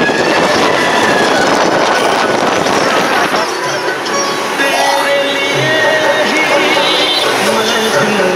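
A passenger train runs along the rails with a loud, steady rumble and rattle of the carriages from inside, occasional tonal squeals rising over the noise, and voices talking faintly beneath.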